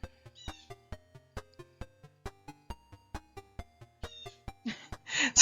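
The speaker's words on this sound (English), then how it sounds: "there's a bird losing it in my front yard right now." Out in a front yard, a bird calls in sharp, evenly spaced chirps, repeating about twice a second. The calls are fairly faint and distant, and a burst of noise comes at the end.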